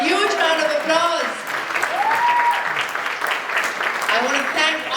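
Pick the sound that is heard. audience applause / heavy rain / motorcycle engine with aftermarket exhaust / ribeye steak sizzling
audience applause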